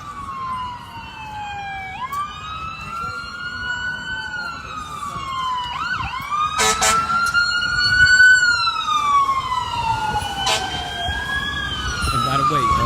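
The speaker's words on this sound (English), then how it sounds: "Excuse me, fire trucks coming through" Fire truck and ambulance sirens pass along a street during a walk against gun violence in Memphis, with repeated rising and falling wails, loud and fairly close, plus a few sharp blasts. A crowd and voices carry on underneath.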